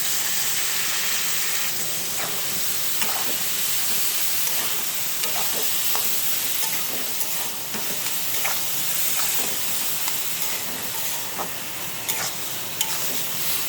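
Potatoes and mushrooms fry in hot oil, giving a constant close sizzle and hiss broken by occasional spatula scrapes and soft clinks, with no voices.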